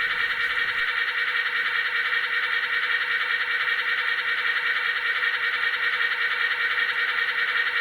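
The sound module of an HO scale model electric locomotive plays a generator sound: a continuous, even, mid-pitched electronic drone with a faint whine on top, steady and close throughout, with no talking.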